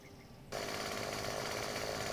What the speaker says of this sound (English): Oh, it's some kind of pneumatic drill thing.